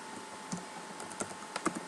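Keys clack sparsely on a computer keyboard while code is typed in NetBeans for a Java project, a few light, close taps scattered over a quiet background with no talking.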